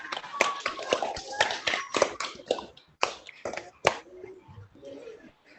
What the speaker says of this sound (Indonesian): kita memberikan tepuk tangan untuk Ambu yang sudah membacakan paragraf 3.